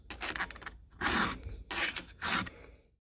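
Round hand file rasping across a chainsaw chain tooth, four distinct strokes in a steady rhythm, close and clear with no talking.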